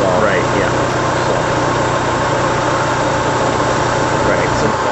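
A car engine fitted with an HHO hydrogen generator idles steadily, a loud continuous mechanical hum and vibration close by, with people talking over it.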